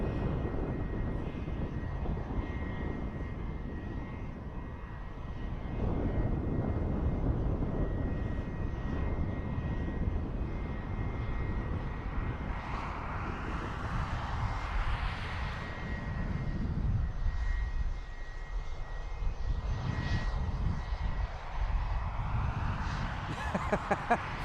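A fixed-wing airliner on the runway at Dublin Airport, its engines giving a steady distant roar that swells and fades over the stretch, heard from outside at some distance.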